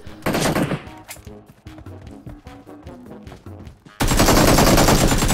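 Rapid gunfire in the mobile shooter Peace Elite, a quick burst of sharp, evenly spaced shots close up, followed by a dense, loud wash of noise that cuts in abruptly near the end.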